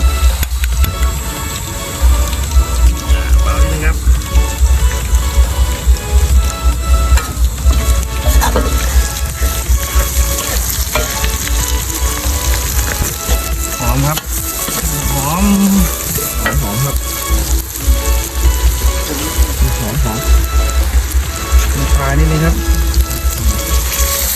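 Sago palm weevil larvae stir-fried in a hot pan, a steady dense sizzle and crackle of frying running throughout with occasional scraping stirs and a few brief spoken remarks.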